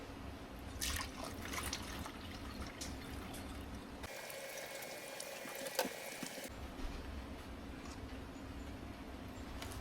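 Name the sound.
pouring liquid into bottle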